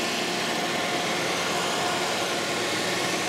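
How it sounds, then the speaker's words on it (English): An old barn-find BMW engine idles much too high with its choke valve stuck open, giving a steady, even mechanical drone with a broad hiss that holds constant throughout and no voices. "it runs again, but still it's idling way, way too high"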